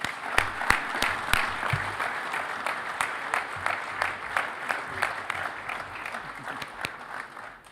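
An audience at a fire service mental health talk claps to welcome Steve Serbic onstage, steady moderate applause with distinct nearby hand claps standing out over the crowd's patter.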